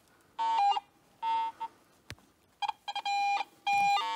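Metal detector beeping over a target while gold detecting in the Victorian Goldfields: several loud, sustained electronic tones in uneven bursts with short gaps, plus one sharp click midway, no talk.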